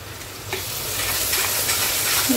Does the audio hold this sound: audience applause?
no